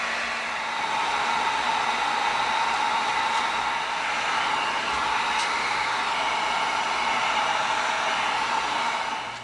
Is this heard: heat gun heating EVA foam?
yes